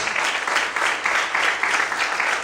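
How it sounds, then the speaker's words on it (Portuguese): Congregation in a church clapping steadily, a dense, even wash of hands that holds at a constant level without a break. "Você pode aplaudir Jesus nessa noite?"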